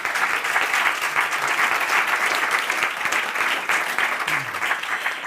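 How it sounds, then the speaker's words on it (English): Sustained applause from a lecture audience at a panel on crisis, revolts and war in the Arab World, honoring the editor Helmut Krieger; dense, even clapping fills the room for several seconds without pause. "Sie dürfen gerne applaudieren"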